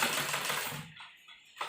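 A sewing machine runs steadily as it stitches along the edge of dupatta fabric, a close mechanical whir that stops abruptly partway through, leaving near-silence, with no talk.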